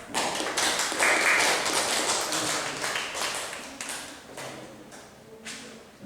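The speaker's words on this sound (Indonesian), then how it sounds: "Tepuk tangannya mana?" Audience applause at a classroom group presentation: a scattered round of hand claps and taps, loud at first then thinning into sparse individual claps.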